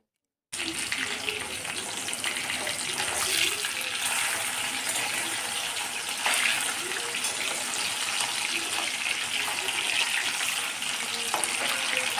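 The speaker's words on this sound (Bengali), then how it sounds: "তেলে মাছ ছেড়ে দেব আর এই সময় গ্যাসের ফ্লেমটা একটু মিডিয়ামে রেখে দেব" Pieces of silver carp frying in hot oil over a medium gas flame, the pan under a lid, giving a steady, dense sizzle that holds nearly unchanged throughout with a few small pops and crackles.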